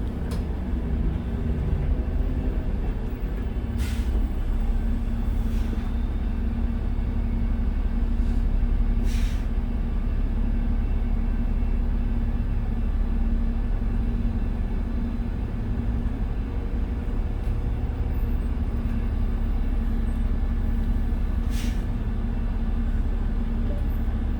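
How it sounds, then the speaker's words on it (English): A 2001 New Flyer D40LF transit bus riding at night, its engine giving a loud, sustained drone and turbo whine throughout, heard from inside the cabin with a few faint clicks and rattles. "Man, what a loud turbo spool this thing has."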